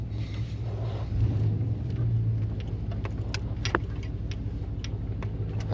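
A 1988-93 Chevy OBS pickup truck driving, a steady low engine drone and road rumble heard from inside the cab with small rattles and clicks over it.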